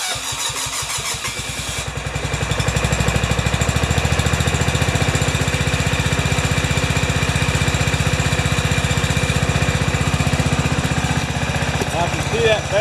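A John Deere 165 riding mower engine cranks slowly and catches, then settles into a steady, close, loud running chug with a faint voice underneath.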